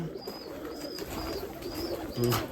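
Pigeons in a breeding loft coo softly in the background, low murmuring calls mixed with faint repeated chirps, with no talking.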